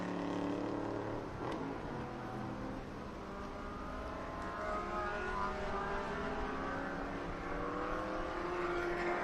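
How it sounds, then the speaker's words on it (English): A Corvette race car circling the Virginia International Raceway track during a vintage SVRA event, its engine a steady distant drone with rising and falling pitch as it passes, under a continuous ambient wash. "smoke coming out of Ritchie's Corvette there"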